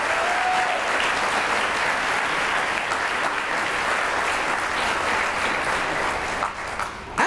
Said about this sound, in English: give a final round of applause for all of our 2024 honored retirees